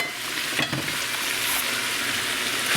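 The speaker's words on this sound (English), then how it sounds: "now we're gonna take the vegetables we are sautéing and throw them together" Vegetables for chili sauté in a pan, a continuous close sizzle with faint stirring scrapes mixed in and no one talking.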